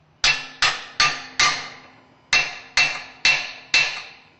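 A hammer straightening the strap on a 385S/475S pump: eight sharp, close metallic blows in two quick sets of four, each ringing briefly before the next, with no talk.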